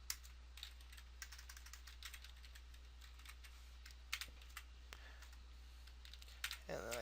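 Computer keyboard typing during web page building in Dreamweaver CC: irregular, quick keystroke clicks scattered throughout, faint and close, over a low steady electrical hum, with a brief louder rustle near the end.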